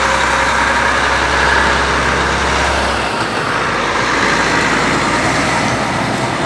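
Loud, steady rumble of a crashed truck's engine idling close by at an accident scene on a bridge, with a deep low throb that drops away partway through, leaving broadband engine noise.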